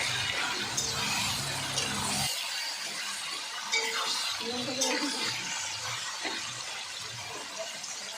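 Lentils and taro greens fry in a pan, soft sizzling and scraping as they are stirred, with clinks of a utensil and a voice talking over it.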